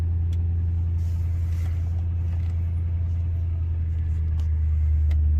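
A car engine idles steadily after a cold start at about 26 degrees outside, a constant low rumble close by with faint ticks and clicks over it and no talking.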